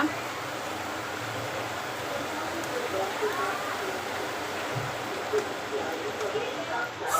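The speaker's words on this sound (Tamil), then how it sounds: "வெளிய மழை அப்படி அடிக்குதுங்க பயங்கரமான மழை" Heavy rain pours outside as a steady, soft hiss under voices in a home kitchen, with no clear breaks.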